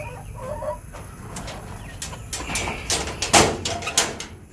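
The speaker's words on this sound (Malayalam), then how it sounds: "ഇതിൽ കുറച്ച് ഫാൻസി കോഴികളുണ്ട്" Fancy chickens clucking inside a coop, several short clucks and calls scattered near the mic, growing busier toward the end, with a soft background hum.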